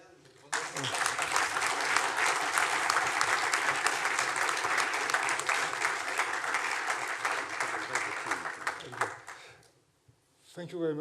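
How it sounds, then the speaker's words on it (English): A long, dense burst of audience applause at the closing session of a conference starts abruptly, holds steady for about nine seconds, then fades away and briefly swells again at the end. "Maybe we can applause again."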